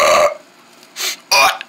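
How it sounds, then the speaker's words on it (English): A cartoon burp ray fires loud, raspy belching blasts: one long burp followed by two shorter bursts with brief silences between, up close and without talk. "That's why it's called the burp ray, because it burps."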